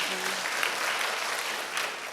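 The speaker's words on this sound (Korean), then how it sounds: "박수 한번 부탁드리겠습니다" Audience applause at a televised citizens' town-hall forum in Siheung, a short burst of dense, steady clapping from a crowd, with a faint voice briefly under it at the start.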